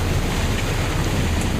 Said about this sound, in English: I remember the waves of rain.